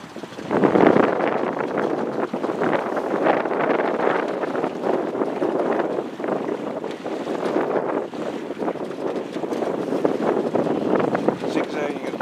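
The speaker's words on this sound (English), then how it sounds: "Zigzagging across the lower bay. Power of the wind." Steady, loud wind roaring across the microphone while sailing a single-handed boat zigzagging across a lower bay in January, with rushing water and hull noise underneath throughout.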